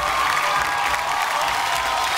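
Audience clapping loudly for a woman contestant at a Marathi games event, a dense steady burst of applause heard up close, with no voices over it.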